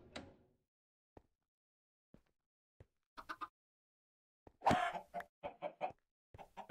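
A Minecraft chicken gives short scattered clucks and squawks in the game, sparse blips at first and then a busier cluster of louder clucks, with no talking.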